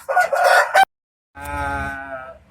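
Chickens and a rooster at a chicken farm in Yogyakarta: a short burst of clucking, then, after a pause, one long, loud rooster crow close by. No voices are heard.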